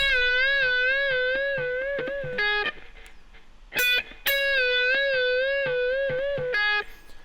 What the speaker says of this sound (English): It's a really cool sound, especially when you're sort of bringing the wah back and forth gently.